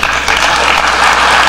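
A political rally audience at the Iowa Freedom Summit applauds in a steady, dense wash of clapping that stays loud and even throughout.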